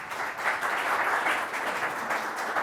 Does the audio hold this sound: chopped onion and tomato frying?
no